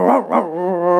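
A human voice imitates an angry dog, giving two harsh bark-like bursts followed by a sustained tonal growl, loud and close with no other speech.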